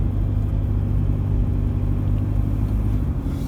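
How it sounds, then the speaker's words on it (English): A cold Toyota 1KD diesel engine idles with a fairly normal rattle, a loud, steady, close low-pitched clatter and rumble that continues unbroken with no talking. "Now the rattle we got now is what I'd call what's a fairly normal rattle."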